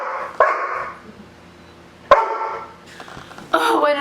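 A pet dog barks sharply three times, spaced out over a few seconds, each loud, close bark standing alone with quiet room tone in between.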